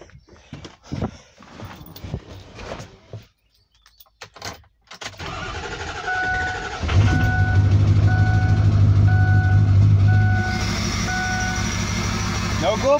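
A 2005 Ford F350 XL pickup with the 6.0 diesel cold starts without cycling the glow plugs after sitting for days, then settles into a loud, steady clattering idle, with people talking beforehand and a repeating beep over the running engine.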